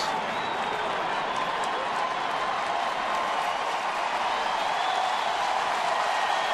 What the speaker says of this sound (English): Crowd starting to come alive now with 2 outs, nobody on